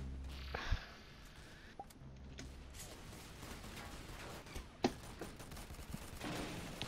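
Gunfire from the Roblox game Arsenal rattles off in scattered shots and short bursts. It sits at moderate, game-mix loudness over a steady background bed.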